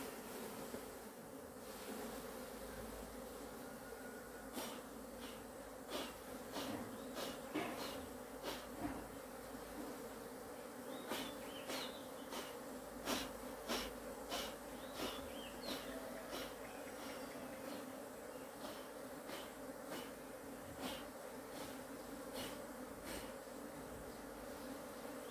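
A crowded honeybee colony hums with a dense, continuous buzz close by, broken by scattered sharp clicks and taps as hive frames are handled during queen rearing.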